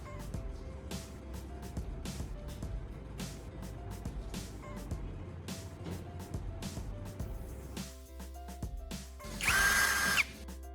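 A power drill whirs in short repeated bursts, drilling holes in a sealed aluminum can container, close and moderately loud, followed by a brief higher-pitched grinding whine at the end.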